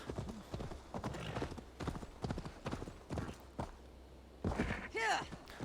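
A horse's hooves clip-clop in the Viking-era game AC Valhalla, a fairly loud, uneven run of footfalls with pauses and a neigh toward the end, with someone talking over it.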